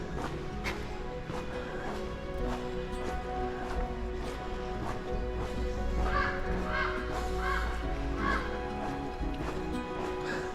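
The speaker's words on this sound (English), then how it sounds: "Oh, the ominous raven at the end." A raven calls along the Pacific Crest Trail between Sulfur Springs and Vasquez Rocks, giving a string of hoarse croaks at moderate distance over a steady low outdoor hum, some spaced out and some clustered, with no talk.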